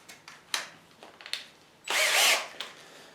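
A power drill whirs in short bursts, then runs steadily for about half a second, boring a 3.5 mm hole through a wooden SG-style guitar body close by, with faint clicks and handling noises around it.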